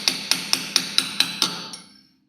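Chisel struck by a small hammer to knock the protective cap off a brake drum's central hub nut: seven sharp, evenly spaced metallic taps with ringing decay, close and clear, ending in a short fading ring.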